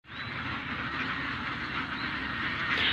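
A flock of ducks settling into their new pen on a duck farm, quacking in a dense, continuous chorus that stays steady and fairly loud throughout, with no talking.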